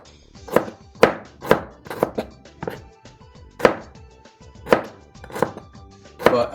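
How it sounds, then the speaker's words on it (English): Knife chopping Brussels sprouts on a cutting board during late-night okonomiyaki prep, a steady series of crisp, close thunks at an unhurried pace. "I'm just assessing the Brussels sprout, see their structure, and cut them accordingly"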